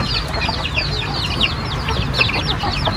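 Native chickens and young chicks cluck and peep continuously inside a coop, a dense, close chorus of overlapping calls with no talk.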